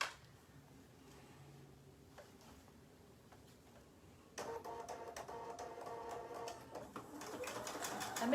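A sewing machine runs a straight stitch along the short edges of bag lining pieces for a Japanese knot bag, a steady mechanical whir that starts partway through and continues, faint and close.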